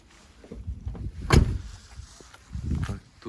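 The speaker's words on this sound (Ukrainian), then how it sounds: "Зверніть увагу, як закривається бокова дверка." The sliding side door of a 2013 Renault Trafic passenger van rolls shut with a single solid thud in the middle, followed by faint rattling and movement.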